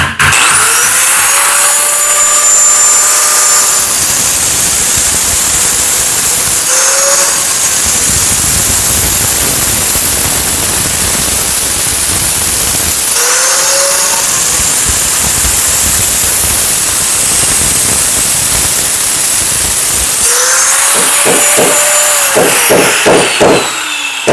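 An angle grinder cuts during installation of a new electrical utility box and outlet, a loud continuous high whine with several spin-downs and restarts, ending in rapid chattering bursts as the blade bites.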